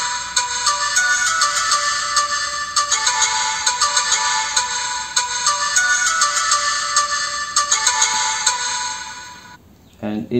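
A flipped version of a song's melody built in FL Studio: a bright tropical chime synth plays a steady, repeating loud pattern of plucked notes for about nine seconds, then cuts out abruptly, with no voices.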